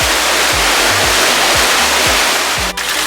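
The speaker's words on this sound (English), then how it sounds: "then it splashes into a pool. So you get that sound that you really want." Patio fountain water splashing steadily into a pool, a loud close continuous rush with repeated low pulsing thumps beneath and a brief click near the end.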